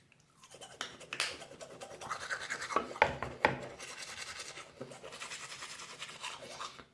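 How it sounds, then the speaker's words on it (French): Close, rhythmic scrubbing of a toothbrush with toothpaste against teeth, a wet rasping back-and-forth that builds and continues steadily, with no talking. "Donc maintenant je vais mettre mon dentifrice habituel et je vais me brosser les dents."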